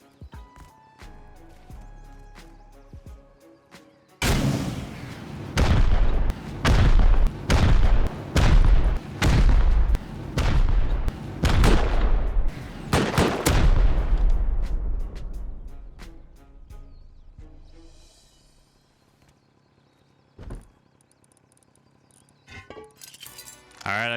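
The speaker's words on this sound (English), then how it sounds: "all the grubs are swarming from the sound of the python turret" Rapid bursts of python turret gunfire in the survival game Rust, a dozen loud evenly spaced blasts with a ringing tail, followed by quieter scattered shots and silence.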